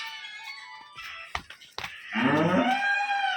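After a few faint knocks and shuffles, a large pregnant dairy cow lets out a loud, rising moo near the end.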